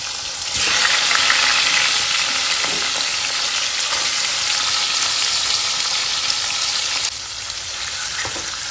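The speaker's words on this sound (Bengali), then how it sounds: "মাছ ভাজা হয়ে গেছে" Fish sizzling steadily in hot oil in a home kitchen, a loud, continuous crackling hiss that holds for most of the stretch and eases slightly near the end, with no talking.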